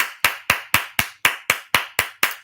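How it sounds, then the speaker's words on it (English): A single person claps hands ten times in a steady, even rhythm, each clap sharp, close and alone with no voices around it. "I feel like you need a hand clap"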